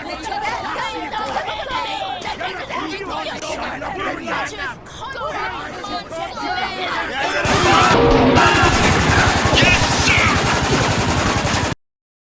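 Gunfire in a video game builds from scattered shots under loud shouting voices and crowd chatter into dense, continuous automatic fire near the end, then cuts off abruptly.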